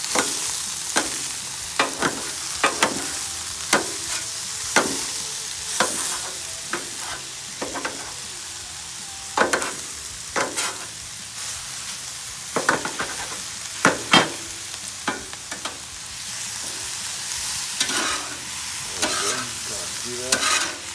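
Crawfish sizzle on a 22-inch Blackstone griddle under repeated spatula scrapes and taps, a continuous close frying hiss with rhythmic stirring strokes throughout.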